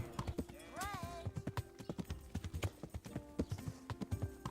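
Horse hooves clip-clopping at a steady walking rhythm in the Kingdom Come: Deliverance video game, close and clear, with a brief neigh and game sounds in the background.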